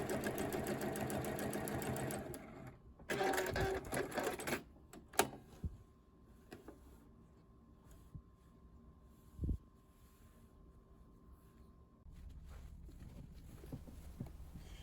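Sewing machine free-motion quilting a clover pattern, with a brisk run of stitching at the start, then a near-quiet stretch broken by sharp clicks and handling noises before the motor picks up again.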